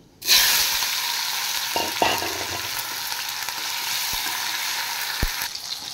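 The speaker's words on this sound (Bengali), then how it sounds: "এবার তেলে আমি সামান্য কালো জিরে আর দুটো তেজপাতা দিয়ে দিচ্ছি। এবার দিয়ে দেব একটা টমেটো।" Nigella seeds, two bay leaves and a tomato frying in hot oil in a home Bengali kitchen make a loud, steady sizzle throughout, with a few soft clinks of a spoon in the pan.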